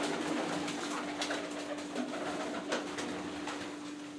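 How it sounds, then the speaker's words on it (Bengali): Many local and high flyer pigeons in a loft cooing together, a soft overlapping rhythmic coo at close range with rustling wings and a faint steady hum beneath. "এখানে কিন্তু দেশি কবুতরও আছে, হাই ফ্লায়ারও আছে, মিলানো ঝিলানো আছে।"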